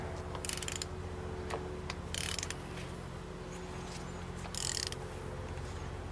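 Turning a 2.0L Hyundai Elantra engine by hand during timing chain work gives three short bursts of faint ratcheting clicks, spaced a second or two apart over a quiet garage hum.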